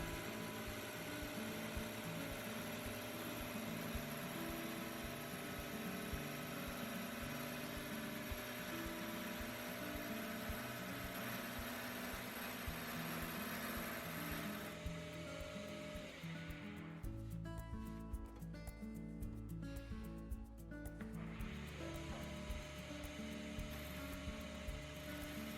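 Wood lathe spinning a workpiece while a roughing gouge cuts it, giving a steady, loud motor whir and scraping tool chatter throughout, with a shift in tone partway through as the cut changes.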